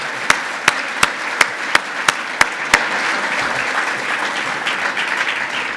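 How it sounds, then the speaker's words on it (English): At an opening gala, an audience bursts into a sustained round of applause that swells into dense clapping and holds steady, led at first by a few sharp, evenly spaced individual claps up close. "James, please, can you stand up so everybody can give you a big round of applause?"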